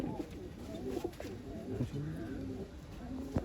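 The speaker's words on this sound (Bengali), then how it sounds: "সব পিওর ব্লাডের পায়রা আছে" Pure-bred pigeons kept for sale in Garia coo steadily, soft low throaty calls that overlap and repeat close by, with faint rustling and background murmur.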